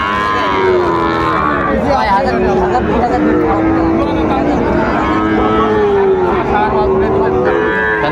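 Sahiwal bulls low repeatedly at a busy livestock market in Bogura, their drawn-out moos rising over constant crowd chatter and nearby talking.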